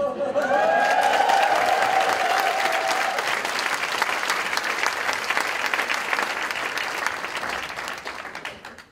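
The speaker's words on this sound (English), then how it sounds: "please have a cheer also" Graduation conferring ceremony audience applauding and cheering in a hall, a loud sustained wave of clapping with a few whoops at the start, gradually fading toward the end.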